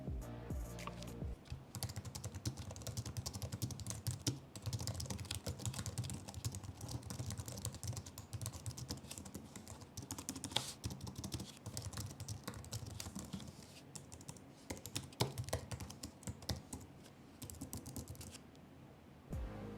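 Rapid, continuous typing on an Apple chiclet-style, low-profile flat keyboard, with soft, close clicks in a dense rhythm and only short pauses.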